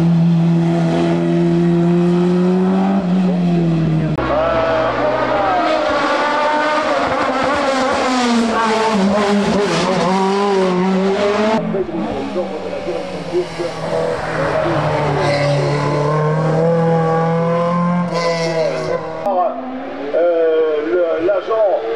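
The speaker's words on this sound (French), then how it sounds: "le chrono de Francis O'Mahony avec la Porsche 996 GT3" A Porsche 996 GT3 racing up a hill climb course at Limonest, its engine loud and close, rising and falling through gear changes as it accelerates past, with a commentator talking over it.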